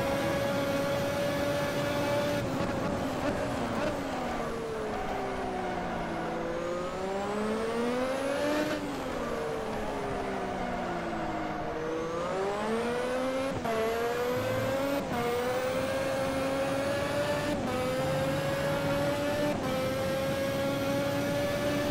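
A 1988 F1 race car engine screams in the Automobilista game at the British GP, a high, sustained whine rising and falling through gear changes and revs, loud and close throughout with no talking.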